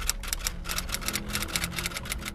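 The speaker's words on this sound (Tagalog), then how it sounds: "Unang narinig niya ang tunog ng isang typewriter." Rapid mechanical clacking of typewriter keys in uneven bursts over a low hum, continuous and fairly close with no voices.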